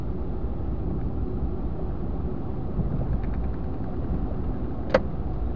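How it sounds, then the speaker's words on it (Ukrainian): Road traffic rumbles steadily in a town street during quarantine, with engines droning at a constant level and a brief sharp clack near the end, heard alone without talk. "дуже-дуже інтенсивний трафік вже"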